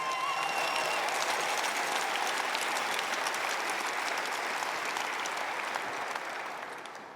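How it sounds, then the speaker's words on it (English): Sustained applause from a large audience at a university championship celebration in Frisco, greeting the cheer and dance teams; dense, even clapping holds steady for several seconds, then begins to thin toward the end. "Let's give them a round of applause as well."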